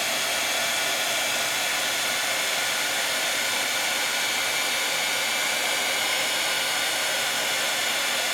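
A heat embossing tool blows hot air on ink in a steady, loud, close whooshing hiss that holds unbroken throughout.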